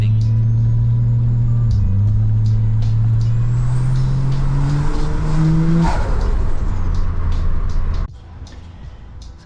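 Toyota Crown JZS171 with a 1JZ engine driving, a loud close engine drone rising in pitch through the gears with a brief dip, over road rumble, before the noise suddenly drops away near the end.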